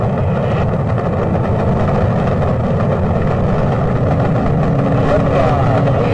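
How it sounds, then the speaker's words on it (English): Apollo 11 Saturn V rocket engines thundering at liftoff, a dense, steady low roar filling the whole stretch without letup, with a faint voice beneath it. "Liftoff. We have a liftoff. 32 minutes past the hour. Liftoff on Apollo 11."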